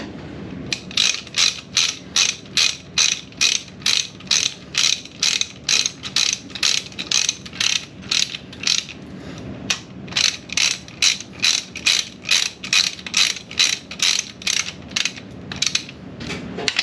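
Ratchet wrench tightening a cylinder head bolt on an all-aluminum 572 HEMI engine: a long steady run of loud, close clicking strokes, each stroke a quick burst of pawl clicks with brief pauses between, no talking.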